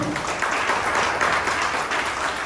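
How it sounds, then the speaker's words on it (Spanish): A church congregation claps together in a loud, even burst of applause, many hands blending into a continuous dense patter with no one speaking over it. "Denle un aplauso al Señor."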